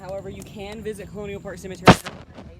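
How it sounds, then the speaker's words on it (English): A single sharp firework bang in the distance on a Saturday night at a cemetery, a short burst standing out once over ongoing conversation. "It's fireworks."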